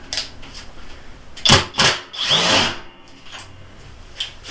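A Flex 24V brushless impact driver (FX137A) with a socket drives a thick 2.5-inch lag screw, giving a few short loud bursts of hammering whir, then a longer sustained run, near and alone.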